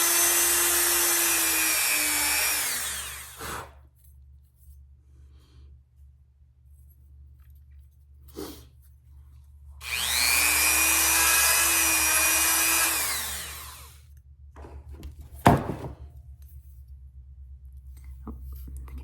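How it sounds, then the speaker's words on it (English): Small rotary tool with a diamond tip drilling out a tiny hole, two high whining bursts a few seconds each separated by quiet, with faint clicks and a sharp tap, close and alone. "I'm going to simply use a diamond tip and very, very carefully drill it out."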